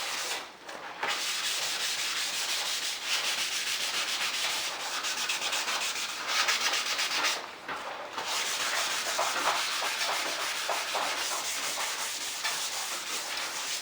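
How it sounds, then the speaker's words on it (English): Steady hand sanding across new wooden crown molding being prepared for paint, a continuous close abrasive rubbing with brief pauses and shifts in stroke, no talking. "Sand these three down here."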